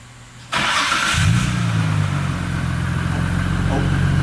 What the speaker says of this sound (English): All right, listen to this engine